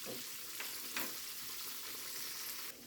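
Catfish fry in hot oil with a dense, steady crackling sizzle, fairly quiet, plus a couple of soft clinks and a brief shift near the end.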